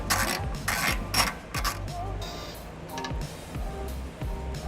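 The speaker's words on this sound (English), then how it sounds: "removing 3 12mm bolts here, or nuts, using a 12mm socket and ratchet" A 12mm socket and ratchet loosen nuts on an exhaust hanger bracket of a 2006 Nissan Altima during trailer hitch installation, giving bursts of rapid close clicking ratcheting with brief pauses between strokes.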